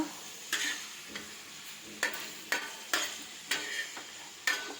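Ingredients for a spinach chutney frying in a pan, a quiet background sizzle punctuated by about eight sharp, regular scraping strokes of a spatula, close and with no talk.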